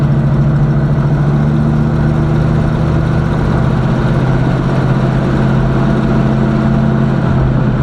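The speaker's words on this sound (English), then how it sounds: "this car is pretty loud" A loud box Chevy engine runs steadily close by during a test drive, a deep constant droning hum that fills the whole stretch without pause.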